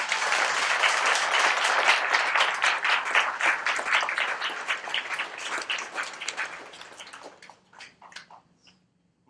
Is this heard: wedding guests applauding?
yes